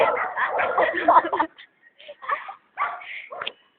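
Dogs bark in a flurry of short, irregular bursts close by, with people talking over the commotion.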